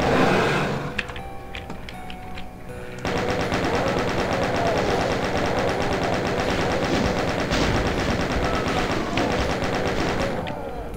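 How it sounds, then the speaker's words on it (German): A Gatling gun in the video game Doom II fires a loud, rapid and continuous stream of shots for about seven seconds, following quieter in-game sounds. "Welch lieblicher Klang der Gatling Gun"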